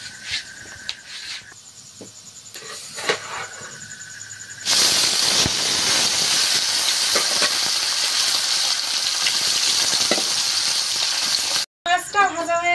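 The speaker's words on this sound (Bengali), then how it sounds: "শোল মাছ একটু কড়া করে ভাজতে হয়" Snakehead fish fries crisp in hot oil with a loud, steady sizzle that jumps up partway through. The sizzle runs on under someone talking and stops briefly near the end.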